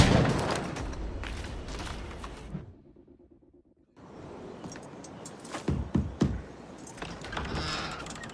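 Musket volley in the Assassin's Creed Rogue video game: a burst of crackling, overlapping gunshots, a sudden near-silent gap, then further scattered bangs and booms amid battle noise.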